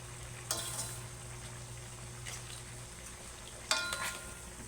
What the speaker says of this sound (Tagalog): Lagay natin yung ating alimasag.